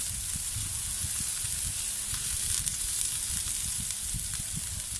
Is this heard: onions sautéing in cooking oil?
yes